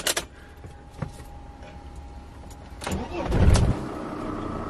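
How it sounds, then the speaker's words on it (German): Diesel engine of a Mercedes Sprinter camper van cranking and starting on a rainy morning, a few clicks and a rising whir before the engine catches and settles into a low idle, heard close up. "So, dann machen wir mal kurz den Motor starten hier."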